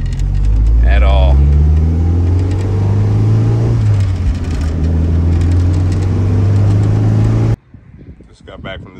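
A right-hand-drive EK Honda Civic with a B-series engine and a SpeedFactory Racing turbo kit drives along with a loud, steady engine drone and road noise that drops away abruptly near the end.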